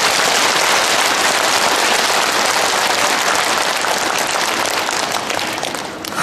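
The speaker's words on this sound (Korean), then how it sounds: "그럴듯한 사람 박수 한번 쳐보세요" A church congregation at the Incheon diocese Holy Spirit rally claps together for a priest's lecture, a thick, loud, rain-like roar of hands that holds steady for several seconds and thins slightly at the end.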